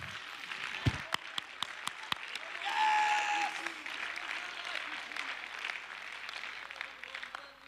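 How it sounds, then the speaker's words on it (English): A church congregation clapping together at a worship service, with steady scattered claps and a few sharp louder hits mixed with crowd voices and a brief sustained tone, moderately quiet overall. "Let's clap our hands and let's love him one more time"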